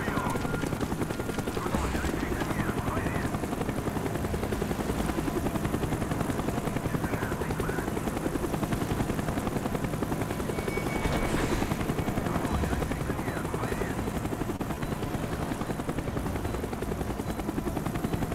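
A helicopter in a video game, its rotor and engine drone a constant loud rumble with a rhythmic chop, mixed with distant gunfire and brief voices underneath.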